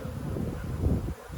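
Honeybees hum at the hive during a maple flow, a low, continuous close buzz that dips briefly before rising again.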